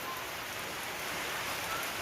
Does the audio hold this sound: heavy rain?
yes